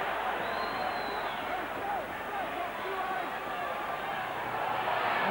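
A large stadium crowd at a rugby league grand final, Oldham against Widnes in 2001, roars as a dense, continuous wash of distant noise with a commentator talking over it.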